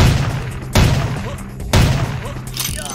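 Gunfire in the vampire action role-playing game Vampire: The Masquerade – Bloodlines: two sharp, loud shots about a second apart, each trailing a booming echo, with softer thuds after.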